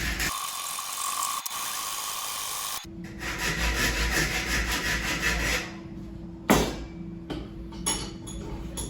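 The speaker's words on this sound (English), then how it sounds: "Take your sandpaper and wrap around the tube, and then sand the bamboo following the same angle as you just cut." Sandpaper wrapped around a bamboo bike-frame tube, rubbed along a freshly cut notch angle: steady, close abrasive scraping that runs continuously, then turns into shorter strokes with a sharp knock partway through.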